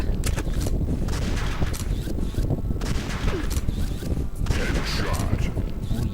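Rapid, dense video game gunfire from an Xshot gun, with bursts of shots blending into a continuous loud fusillade and heavy low booms, close and filling the whole stretch.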